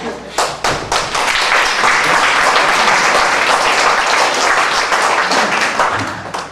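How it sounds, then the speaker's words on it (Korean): Audience applause welcoming a speaker to a Korean academy presentation on UCC use, a loud dense wash of many hands clapping that swells quickly and holds steady before tapering at the end. "네, 박수를 좀 맞아주시고요."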